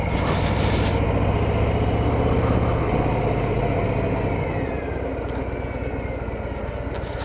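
A 2025 Harley-Davidson Fat Boy motorcycle rides in low gear, its engine a steady loud throb with a rumbling low pulse that eases slightly partway through, heard alone without speech.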